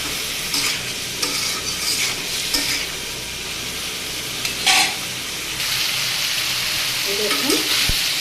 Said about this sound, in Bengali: এটাকে এখন আবার আরেকটু ভেজে নেব